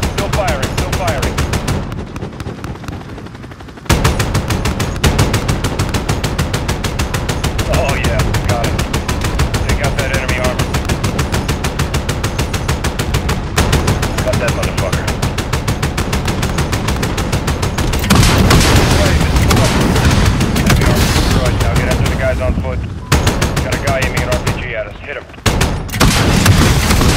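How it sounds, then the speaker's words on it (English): Helicopter gunship guns firing in Call of Duty: Modern Warfare (2019): loud, sustained rapid bursts of gunfire with short pauses, mixed with game radio chatter. "Guns, guns, guns. Still firing, still firing."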